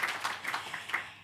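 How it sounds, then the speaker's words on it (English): Forum audience applauds at a morning energy-challenge event, producing a brief patter of scattered hand claps that swells and fades in small bursts over about a second, moderately faint. "Let's give a round of applause to boost our energy this morning and also for the whole day."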